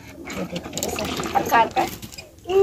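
Wet squelching and dripping as boiled mustard greens are squeezed by hand to press out their water, a busy run of liquid sounds with a voice talking over it.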